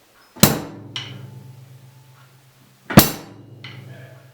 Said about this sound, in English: you're going to hit your bass drum and your hi-hat together